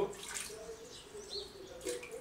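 A leaking tap on a ceramic water filter, a faint trickle of running water with soft splashy surges coming and going.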